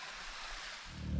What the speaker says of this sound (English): So that's the waterfall at No Business,